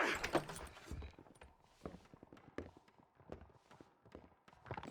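Horse hooves clip-clop in the Western video game Red Dead Redemption, a series of distinct, fairly quiet hoofbeats in an uneven walking rhythm, close by, with a louder knock at the start and no talk.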